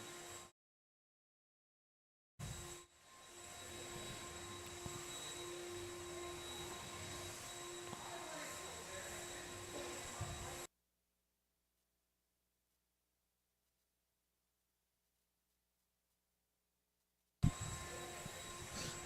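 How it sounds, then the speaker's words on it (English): A blower clears dust off an RC buggy at a raceway during race qualifying, making a faint, steady rushing whoosh that cuts out abruptly into silence and returns briefly at the end. "Elliot, get the blower low and pay attention"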